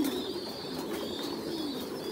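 Pigeons coo steadily inside a pigeon farm where the birds are laying, a soft repeated low warble close by with no voices.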